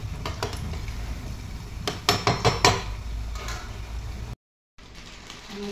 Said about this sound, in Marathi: साखरेचा डबा घासला